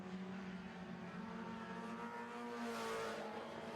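Four-cylinder stock race cars at a speedway heat, engines droning and revving in a fairly faint, continuous blend from a distance.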